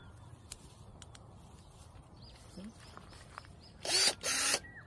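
Pruning shears cut a jujube tree branch outdoors: two short, crisp snipping bursts close together near the end, after quiet ambience with faint distant bird calls.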